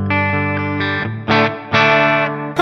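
Bright electric guitar chords from a Strandberg Boden Essential on the bridge pickup ring out with an effected, chorus-like shimmer, struck in several separate strums with brief gaps between them.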